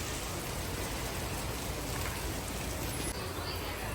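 Heavy rain pours down steadily around a home at midday, a dense, unbroken wash of noise that holds at an even level throughout with no pauses.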